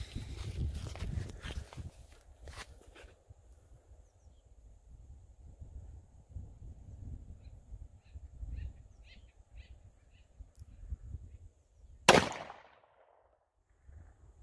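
A single sharp 10mm Auto handgun shot fired through a half-inch barrier outdoors, one loud crack with a short ringing tail, following quiet rustling, faint footsteps and distant birds.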